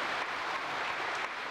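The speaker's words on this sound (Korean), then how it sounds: "축하의 박수를 좀 여러분 보내주세요." A studio audience at a 1983 Korean television broadcast reuniting separated families claps briefly, a soft, steady wash of many hands heard from a distance.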